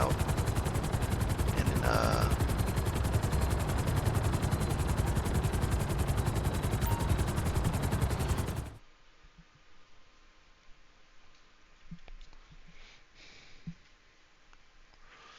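Rapid, sustained automatic gunfire from a yacht defense turret in GTA Online roars loud and continuous for about nine seconds, then cuts off abruptly to near quiet with a few soft thuds and brief talk.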